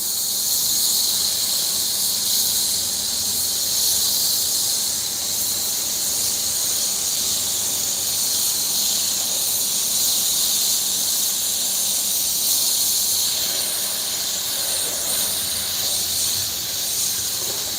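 An airbrush sprays paint onto a hoodie with a steady, bright hiss that runs continuously and close for the whole stretch, with little change in level.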